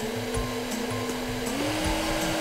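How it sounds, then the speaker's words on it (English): A blow dryer drying a wet toy mermaid pet runs as a steady, close, continuous whir with an even drone throughout, with no talk. "If we use the blow dryer."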